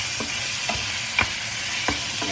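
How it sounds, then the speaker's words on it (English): Pork stir-frying in a pan with sugar and black pepper, a steady bright sizzle broken by several short scraping stirs, close and alone without talk. "Some sugar. Some black pepper. And stir this up."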